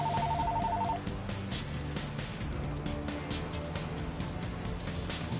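A telephone rings in the video game Pyre, a few electronic ring tones near the start over a steady bed of game music.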